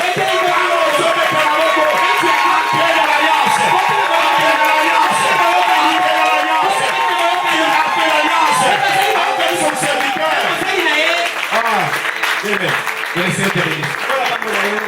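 Church congregation cheering and acclaiming the Lord at a worship service, a sustained loud crowd roar with clapping and whoops mixed under a voice and music for the whole stretch.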